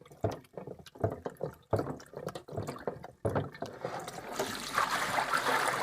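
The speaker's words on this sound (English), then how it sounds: "And you just rinse it a little more here." Water splashing and trickling as a resin 3D print is rinsed by hand, heard as close, uneven bursts of sloshing that give way to a steadier running trickle near the end.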